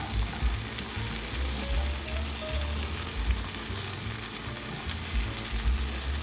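Food frying in a pan for a viral TikTok recipe, a steady close sizzle and crackle with light spattering pops, continuous and alone without talk.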